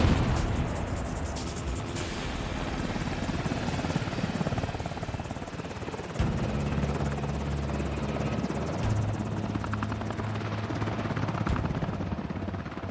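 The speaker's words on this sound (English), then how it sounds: "The sound of incoming Marine Cobras is known and feared around the world. It's a very, very large blade, distinctive sound." Marine Cobra attack helicopters coming in, their large rotor blades making a loud, steady, throbbing roar that continues throughout, with deep low thumping and a broad wash of noise, growing heavier in the second half.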